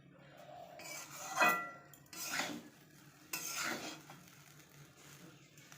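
Rice being reheated in a pot on a home stove, a spoon scraping and clinking against the metal in a few distinct stirring strokes, close and fairly quiet.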